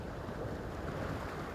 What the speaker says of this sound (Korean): 강한 바람과 파도 탓에 양식이 불가능한 여소도